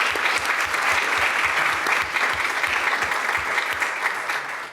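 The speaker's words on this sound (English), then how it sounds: "Let's give them a great round of applause." An audience at a university event claps loudly and steadily, a dense wash of many hands that fades slightly toward the end.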